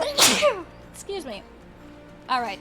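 A single sharp sneeze bursts out near the start, close and loud, followed by people talking over the background audio of a Final Fantasy XIV Stormblood play session.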